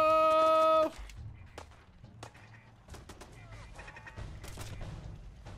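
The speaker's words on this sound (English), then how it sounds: "Why are you shooting at me?" Gunfire in the Fallout 4 video game on PC: a loud burst opens, then scattered sharp shots and impacts crackle over a busy game soundscape.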